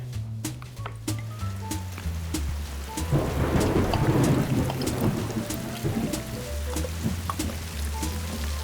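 Steady rain patters and drips while low thunder rumbles and swells in the middle, fading back to rainfall.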